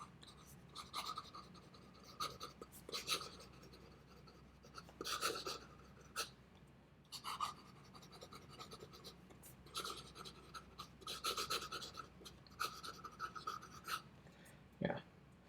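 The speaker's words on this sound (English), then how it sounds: "So fast writing." Broad, wet nib of a Sailor King of Pen fountain pen writing quickly on paper, soft scratchy strokes in short bursts with brief pauses, close and quiet.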